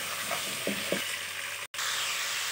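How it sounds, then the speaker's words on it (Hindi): Ingredients for lamb karahi fry and get stirred in a pan, a dense, even sizzle with a couple of soft scraping strokes and one brief cut-out, close and moderately quiet. "अब मैं थोड़ी सी देर इसको इसमें भूनूँगी, ठीक है, ये फ्राई हो जाएगा।"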